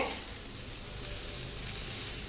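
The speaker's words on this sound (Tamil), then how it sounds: "இப்போ வந்து நம்ம கலந்து விட்டுக்கலாங்க" Vegetable basmati fried rice being stirred in a pan, giving a steady, close sizzle of frying with soft scraping and no talk.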